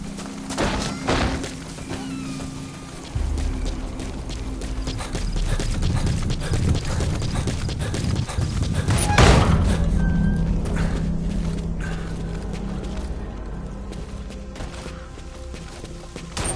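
Horse hooves clip-clopping in a wilderness video game, a steady rhythmic gallop of close, clear hoofbeats with thuds and a brief whinny, running continuously with little talk.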